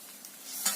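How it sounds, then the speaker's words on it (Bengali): Spices and beef stir-fried in a pan, a brief soft sizzle with a quick scrape of stirring near the end. "মশলাগুলো ভালো করে কষে নিচ্ছি।"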